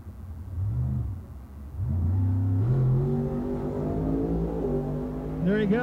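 A 1960 Impala drag car launches and accelerates hard down the strip, its engine climbing in pitch through gear changes into high gear with a loud, sustained roar while an announcer talks over it.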